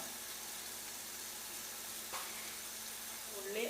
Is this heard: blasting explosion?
no